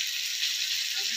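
Bhola fish pieces frying in oil in a pan make a brief, even hiss of sizzling with no pauses.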